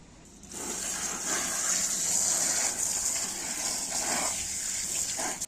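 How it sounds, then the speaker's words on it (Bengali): A mug of water is poured into a pan on a lit stove, a steady close gushing splash that starts after a brief quiet moment and continues to the end, with no voices. "এবার আমি এক মগ জল দিচ্ছি"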